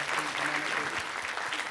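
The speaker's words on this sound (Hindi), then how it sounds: "एक बार इनके लिए भी जोरदार तालियां" Loud, steady applause from an audience at a Hindi awards ceremony in Delhi, a dense continuous wash of clapping with no pauses, a few voices mixed in underneath.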